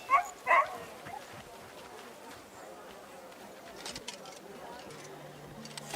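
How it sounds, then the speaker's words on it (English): A dog in the video game Crimson Desert gives two sharp barks up close at the start, followed by quiet ambient game noise. "Another dog came along."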